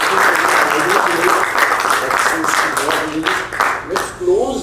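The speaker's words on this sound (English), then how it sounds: "Can we do a big round of applause?" A leadership-event audience gives a big round of applause, dense steady clapping that carries through most of the moment, with speech-like voices rising over it near the end.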